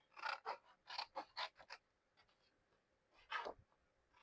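Scissors cutting out paper pieces: several short, crisp snipping and rasping strokes come in quick clusters, close and fairly faint, with a pause before one last cut, and no talking.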